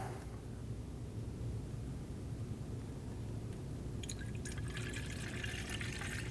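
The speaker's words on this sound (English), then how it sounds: "Go ahead and drop in your coolant." Coolant pours into the reservoir of a 2012-2022 Volkswagen Passat during a radiator replacement, a steady, close, continuous liquid rush with a brighter splashing texture toward the end.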